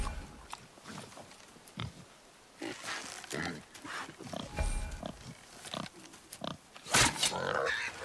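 Wild boar in God of War Ragnarok grunting in short, rough bursts scattered across several seconds, loud and close, with intermittent game sounds between the calls.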